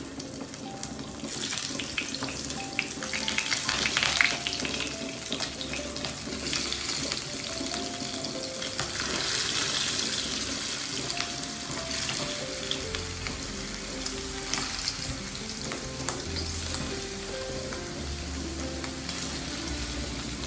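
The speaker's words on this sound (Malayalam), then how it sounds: "അപ്പോൾ നമുക്ക് ഫ്രൈ ചെയ്തെടുക്കാം" Prawns fry in ordinary cooking oil in a pan for prawn biryani, giving a steady, bright sizzle and hiss that runs throughout, with occasional stirring noises and no talking.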